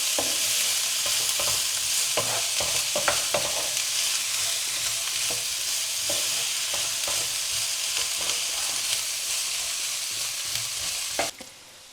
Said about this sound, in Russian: И лук тоже хорошо прожарим, чтобы он стал мягкий, золотистый.